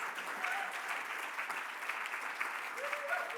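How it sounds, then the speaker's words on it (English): Sustained audience applause at a Scots language award ceremony, a steady dense clatter of many hands continuing evenly throughout without pause. "you keep that applause going"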